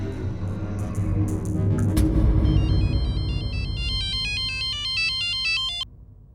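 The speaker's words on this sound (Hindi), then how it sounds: "एक मिनट बेटा, मेरी नानी का फोन है।" A telephone rings in an Indian television drama, a melodic ringtone repeating in rising and falling beeps for a few seconds over a low background din, then cutting off abruptly.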